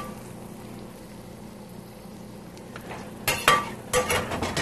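A spoon stirs artichoke shrimp sauce in a pan: a quiet low simmer at first, then several brief, louder scraping and sloshing stirs near the end, with no talk.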